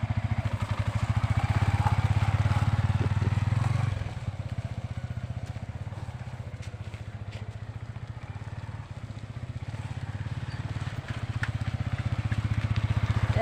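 A new motorcycle is ridden, its engine a close, steady, low thrumming putter that eases slightly after a few seconds and then holds an even rhythm.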